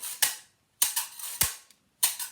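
A homemade can shaker snaps out sharp rattling bursts, four quick shakes with short gaps between, each a crisp clatter of pellets hitting the ends, close and fairly loud.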